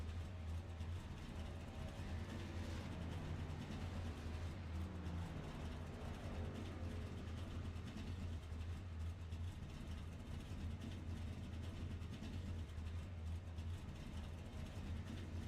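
Truck engine in the iRacing sim at Darlington, a steady low drone that holds without a break throughout, loud and continuous with no voices over it.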